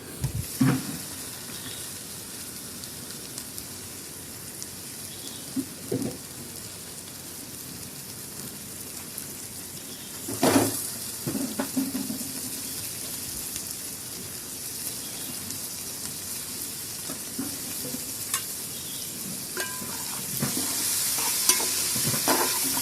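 Tomato added to softened onion and fried in a pan for a Konkani tempered rice dish, giving a continuous hissing sizzle with occasional louder scrapes and clatters of stirring.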